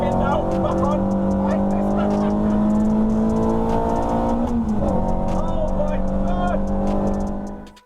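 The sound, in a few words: track car driving at Alton Park, lifting off and accelerating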